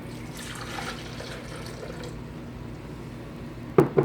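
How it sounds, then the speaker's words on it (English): Water is poured into a pot while making a Thai chicken sauce from scratch, a soft, faint stream early on, followed by quiet kitchen stillness and a couple of sharp clinks at the end. "Let's add our water first."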